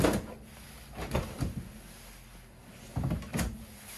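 Soft-close kitchen drawers below the cooktop in a 2021 Coachmen Sportscoach 402TS motorhome slide and thud gently, several separate muted bumps and rolling sounds close by, with quiet pauses between.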